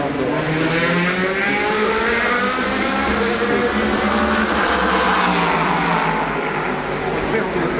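Toyota and Audi prototype race cars at the 2013 24 Hours of Le Mans, engines roaring loud and close with rising and falling sweeps as they pass, under continuous commentary.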